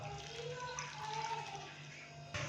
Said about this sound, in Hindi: 2 अदद लेमन जिसको मैंने बारीक कट कर लिया है ये डालेंगे और 1 गिलास हम इसके अंदर डालेंगे पानी